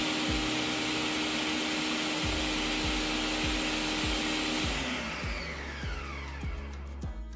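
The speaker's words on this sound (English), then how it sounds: "and we're just going to blend this again." A blender purees tomato soup with stock, a loud continuous whirring motor with rhythmic thumping as the contents churn, the pitch shifting and settling near the end.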